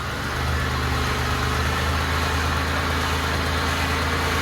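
2000 Buick Regal GS engine idling steadily nearby after a crash, a continuous even hum with no talk over it.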